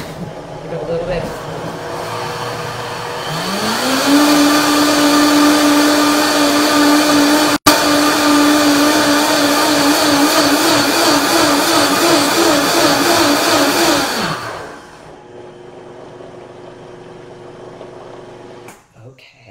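A countertop blender purees hot parsnip, pear and pistachio soup. It starts low, then ramps up into a loud, steady, close whirring whine that holds for about ten seconds before cutting off to quiet.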